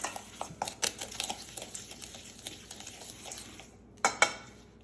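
A spoon stirs dry seasoning, including onion powder and brown sugar, in a bowl for a pork belly rub, giving quiet, quick scrapes and light clinks, with a couple of sharper taps near the end.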